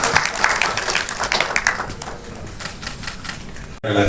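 Audience at a film release ceremony in a studio hall applauding, a thick, continuous patter of many hands clapping that tapers gradually before cutting off abruptly near the end.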